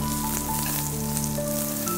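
Shallots sizzle in hot peanut oil in a pan set to stir-fry, a steady crackling fry that stays even and fairly loud, with faint tonal hum in the background and no talking.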